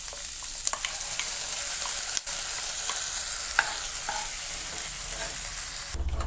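Ground paste sautéing in butter in a kadai, a bright constant hiss of frying with scattered scrapes and taps of a spatula as it is stirred, close and even from start to finish.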